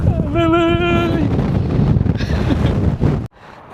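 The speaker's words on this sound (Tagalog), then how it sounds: "Grabe lakas ng hangin." Loud, gusty wind roars and buffets close against the microphone near the Golden Gate Bridge, with a brief whistling tone early on, before cutting off abruptly near the end.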